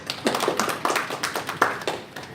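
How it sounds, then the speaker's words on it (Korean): Scattered clapping from an audience at a lecture, a handful of sharp, uneven claps over a couple of seconds, fairly close and not very loud. "이런 분들은 굉장히 훌륭하신 분들이에요. 박수 한번 쳐주세요."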